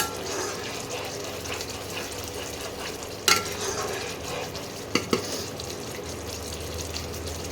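Pointed gourd and paneer curry is sautéed in oil in a pan, a continuous sizzle under scraping stir strokes with a few sharp clinks of the spoon against the pan.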